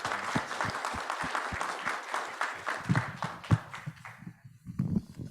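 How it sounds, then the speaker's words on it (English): Audience applause for a panel speaker at a government tax credit review subcommittee meeting: dense, steady clapping across the room with a few sharper individual claps, fading slightly near the end. "Give him a round of applause, please."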